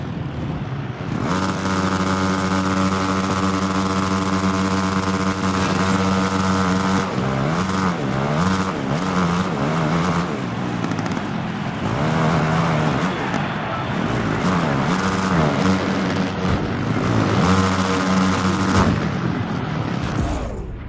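Motocross bikes roaring off the starting gate in the Monster Energy Supercross 2 racing game, a pack of engines revving loud and close, with pitch rising and falling through gear shifts over a sustained high-pitched drone.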